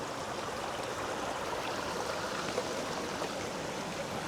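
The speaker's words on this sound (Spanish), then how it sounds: "El agua viene bajando desde la zona que os acabamos de enseñar, viene bajando por aquí" Stream water flowing steadily down toward a stone staircase in Benamahoma, a continuous rushing, gurgling wash heard close and alone with no voices.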